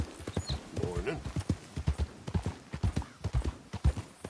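Horse hooves in the Red Dead video game, a brisk, rhythmic run of close clip-clop strikes on hard ground, with a faint voice in the background.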